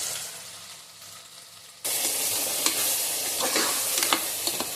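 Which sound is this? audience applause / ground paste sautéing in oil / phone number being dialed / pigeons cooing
ground paste sautéing in oil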